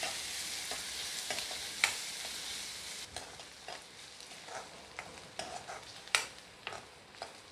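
Chopped onion and green chillies fry in a pan, a soft crackling sizzle under repeated scraping stirs and light clinks, fairly quiet and close with no talk.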